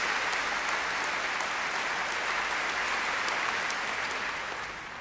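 Sustained warm applause from the audience at the 1993 Leeds piano competition awards, a dense, even wash of many hands clapping that tapers slightly at the end.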